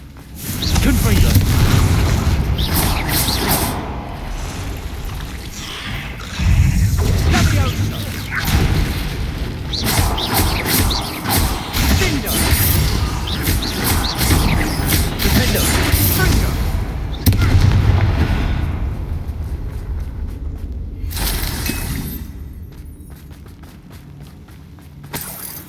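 Confringo spell blasts and explosions in Hogwarts Legacy combat land as repeated loud booms and crackling bursts over about twenty-five seconds, dense early on and thinning near the end, with voices talking throughout.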